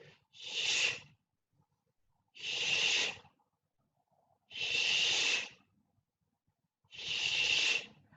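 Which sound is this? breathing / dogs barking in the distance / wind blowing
breathing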